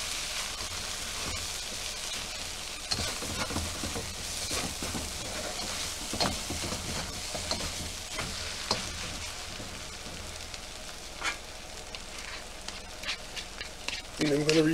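Chicken fried rice tossed and stirred in a hot wok at home, a steady close sizzle and frying hiss with scraping, clattering strokes of the spatula throughout, and a voice speaking briefly near the end.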